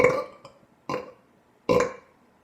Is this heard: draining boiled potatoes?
no